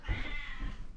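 A cat makes a short, close, fairly faint vocal sound, likely a single meow lasting about a second, with a low rumble beneath it. No one speaks.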